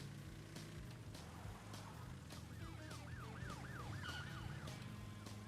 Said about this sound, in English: somewhere here should be the police car that was a problem